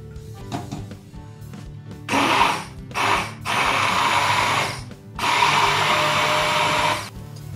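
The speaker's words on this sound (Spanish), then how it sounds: "Y ahora sí, trituramos." A blender purees vegan pumpkin soup in bursts, loud whirring runs broken by brief pauses and shorter pulses, close and without talk.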